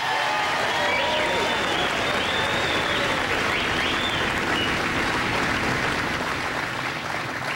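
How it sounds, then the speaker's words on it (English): An audience at a presidential town hall inside the Wyffels Hybrids production facility in Atkinson, Illinois, gives loud, dense applause that stays full and steady from start to finish. "Please give them a big round of applause."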